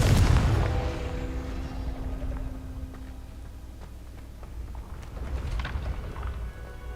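A Confringo fire spell in Hogwarts Legacy opens with a loud, booming explosion that rumbles and fades, followed by scattered game effects and clatter.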